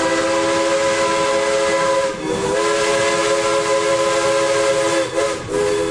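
A narrow-gauge steam train on the Martin Rail line sounds a long, loud, sustained whistle with a steady hiss of steam, the tone dipping briefly twice, heard close and with no talk.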